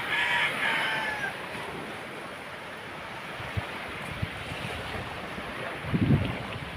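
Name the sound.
sea waves on the shore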